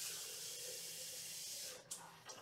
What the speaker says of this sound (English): So I'm gonna fill this up one third of the way, about right here, with water.